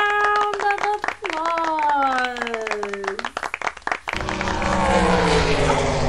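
Clapping in a toddler sing-and-learn session: a sing-song voice runs over sharp hand claps before a sudden, dense burst of clapping takes over the final two seconds.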